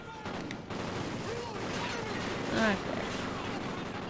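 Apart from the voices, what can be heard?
gunfire in the video game Call of Duty: Ghosts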